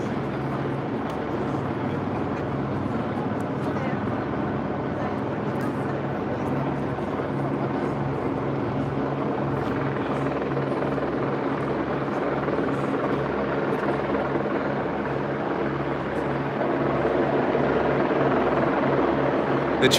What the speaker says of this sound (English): That's going to be a news helicopter just reporting news.